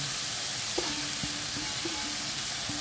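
Rice going into a pot with cooked chicken for arroz caldo, a steady close sizzle and hiss, with a few faint stirring knocks against the pot and no talk.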